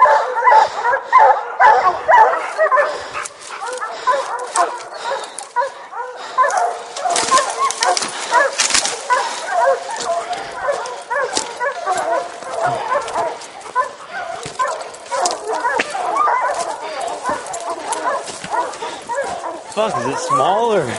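Hunting hounds bark, yip and bay continuously on a bear hunt in rough country, a dense overlapping chorus of several dogs at close to middle distance, with people talking intermittently underneath.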